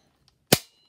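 A newly unboxed gun fires a single sharp shot, loud and close, with a quick decaying tail and only a faint click before it.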